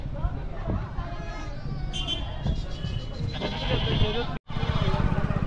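Goats bleat repeatedly at a busy goat and sheep market in Murgud, loud and close over a crowd's chatter, with a brief cut to silence near the end.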